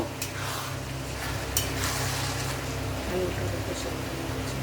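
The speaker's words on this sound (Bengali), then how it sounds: "ভালো করে নেড়ে নেব" A spoon stirs a vegetarian banana flower curry (mochar ghonto) in a cooking pot, giving soft, faint scraping and a low simmering sizzle over a steady background hum.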